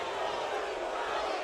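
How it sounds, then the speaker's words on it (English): Boxing arena crowd at a Roman Martinez vs Orlando Salido fight, a steady broad roar of disapproval and booing sustained throughout, loud and continuous with no gaps. "Crowd booing."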